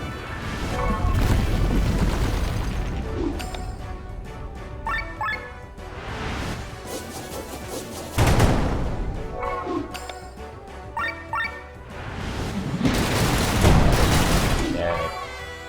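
Bombs explode in the video game Chained Echoes as repeated booming blasts with whooshing, crashing tails, three or four loud bursts in close succession.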